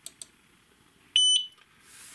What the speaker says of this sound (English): once it beeps, that's when you press the knob in here to start it